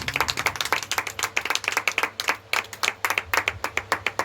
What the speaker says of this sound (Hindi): आइए हम ताली बजा के पास्टर यानी जी का स्वागत करेंगे